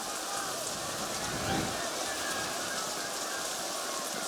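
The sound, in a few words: rain falling during outdoor ultimate frisbee game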